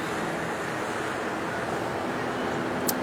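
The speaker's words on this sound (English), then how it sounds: "waking up to the sound of the waves every morning" Ocean surf washing ashore at Myrtle Beach, heard from an oceanfront hotel room as a steady, continuous wash of broadband noise with no distinct breaks, alone and without talk.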